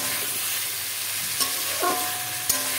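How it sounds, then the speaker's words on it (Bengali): A spatula stirs jackfruit curry as it fries in a pan, giving a steady soft sizzle with a few light scraping clinks against the metal. "এবার আমি এটাকে খুন্তির সাহায্যে ভালো করে মিশিয়ে নিচ্ছি।"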